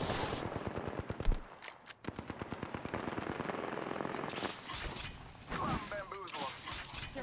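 Rapid automatic gunfire from an Apex Legends match on Kings Canyon, dense bursts of shots rattling close and loud across the whole stretch, with a brief sharper blast early on and continuous game noise behind.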